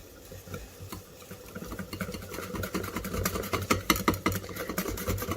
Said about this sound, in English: I'm going to add milk. And I'm just going to whisk these together nicely.